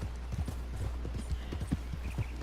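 Steady clip-clop of a horse's hooves from Red Dead Redemption 2 gameplay, a quick even rhythm of close, clear hoofbeats over a low rumble throughout.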